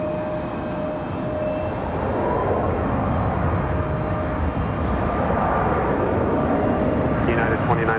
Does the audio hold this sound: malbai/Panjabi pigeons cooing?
no